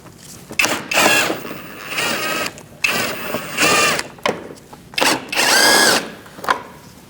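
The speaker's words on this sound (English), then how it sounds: "Now we're going to remove these two bolts using a 7mm socket." Power tool spinning a 7mm socket to remove two bolts from a 2006-2011 Chevrolet HHR 2.4L engine bay, heard as several loud whirring bursts of a few seconds each, separated by brief pauses.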